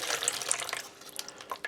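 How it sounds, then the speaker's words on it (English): Water splashes and trickles as it is poured into an experimental British Parachute Regiment field ration pouch, close and fairly faint, with a few drips near the end. "So we just add the water."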